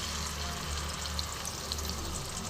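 Dried red chili and cumin paste frying in hot oil in a pan during a cumin chicken recipe, giving a steady, dense sizzle that holds an even level throughout, with no talk.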